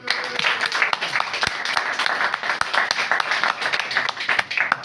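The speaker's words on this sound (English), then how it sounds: "a round of applause for yourself for coming out" A comedy audience at Rock Cafe Leuven applauds with dense, steady clapping that carries on throughout, loud and close, with a few louder claps standing out.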